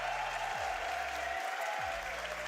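A crowd applauding and cheering at an RLCS Major Rocket League championship watch party, loud sustained clapping filling the room throughout, with a steady tone underneath.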